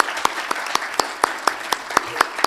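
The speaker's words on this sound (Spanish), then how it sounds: "Permítanme pedirles un aplauso para las personas que han intervenido en este acto" Applause at the opening of a seminar on higher education, a soft wash of crowd clapping broken by sharp, evenly spaced single claps that stand out close by about every quarter second.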